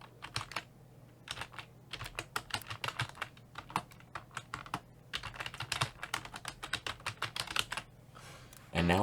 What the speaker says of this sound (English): And now I just wait for the typing to catch up.